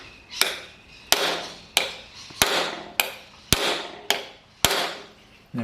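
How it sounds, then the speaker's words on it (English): A brass hammer striking the end of a socket extension to drive in an engine core plug: seven sharp metallic blows at a slow, steady rhythm, close and loud, each ringing briefly before the next. "These I'm going to belt the end of the extension and use a brass hammer on it."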